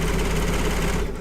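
A home embroidery sewing machine stitches at high speed on quilt patchwork, a steady, loud mechanical whir with rapid, even needle pulses that slows and fades near the end.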